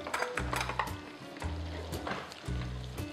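Steaks frying in oil in a pan with a steady sizzle, broken by three bursts of scraping and metal clatter as the pieces are lifted out; no talking.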